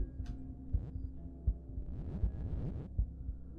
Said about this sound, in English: Slice's heartbeat fills in the gaps of Demian's, thrashing in their ears so loud it feels like a pair of drums banging in their skull